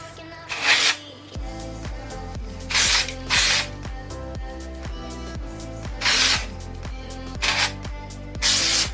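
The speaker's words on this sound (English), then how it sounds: "Just kind of pick it up, spray the roots." Hairspray sprayed onto hair roots, several short hissing bursts at close range repeated in a steady rhythm over continuous background music.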